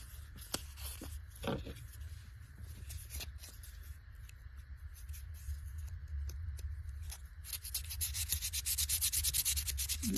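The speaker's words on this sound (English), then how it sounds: "Get some sandpaper down in here." Sandpaper rubbing rust off a small Imperial USA pocket knife, close scratchy strokes in uneven bursts that grow faster and more rhythmic toward the end.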